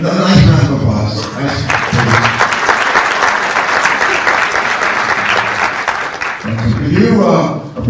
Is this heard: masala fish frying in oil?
no